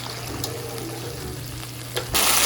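Tomatoes and yogurt fry lightly in a karahi with a steady, soft sizzle throughout, a low hum beneath, and a brighter burst of frying noise near the end.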